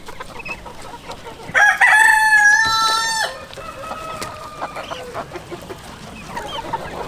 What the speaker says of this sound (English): So a lot of chickens in this coop.